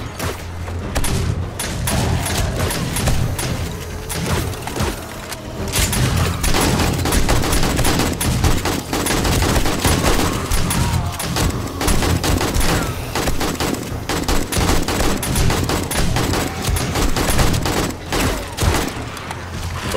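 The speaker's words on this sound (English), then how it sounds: "I got the shotgun turret up and running" Dense, continuous gunfire from a shotgun turret in a co-op video game, sustained loud blasts and thuds with no clear gaps, a faint voice occasionally under it.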